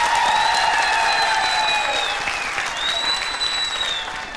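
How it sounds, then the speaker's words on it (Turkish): A television studio audience applauds the third dancer in a Turkish dance contest, a full, sustained clapping crowd with a few whistles and cheers riding over it, slowly tapering off toward the end. "Üç numaranın alkışları."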